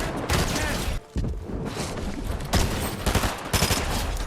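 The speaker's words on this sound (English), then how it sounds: "Stop shooting me, bro." Rapid bursts of gunfire from a Fortnite ranked console match, loud and dense shots clustered across the moment with a brief pause, heard close and alone without talk.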